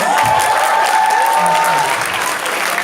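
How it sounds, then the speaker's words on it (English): A crowd at a sales conference claps loudly and continuously in a thick, even wall of applause with a faint tonal thread underneath. "give yourselves a round of applause"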